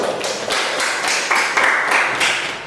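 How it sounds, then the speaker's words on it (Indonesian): A classroom group claps for the first group of students in an Islamic religious education lesson, a steady patter of hand taps lasting a few seconds with no talk over it. "tepuk tangan untuk kelompok 1"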